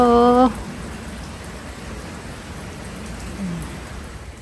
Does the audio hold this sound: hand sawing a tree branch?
no